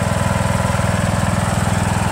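A John Deere L100 lawn tractor with a Briggs 1742 engine drives along, its close, loud engine chugging in a fast, even pulse.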